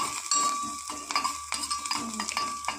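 Tempering spices with turmeric crackle and sizzle in hot oil while a spoon scrapes the pan in quick, repeated strokes, close and fairly loud.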